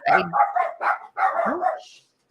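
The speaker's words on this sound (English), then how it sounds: "Lots of dogs." Several dogs bark and yip close by in quick, overlapping bursts, ending with a short high whine.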